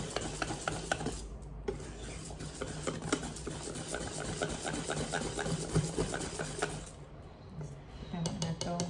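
Rice dough for puto being stirred in a bowl, with steady scraping and knocking of the utensil against the bowl running for several seconds and a brief pause near the end.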